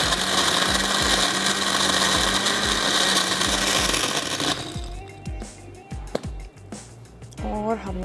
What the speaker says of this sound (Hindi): पहले इसको थोड़ा सा ब्लेंड कर लेते हैं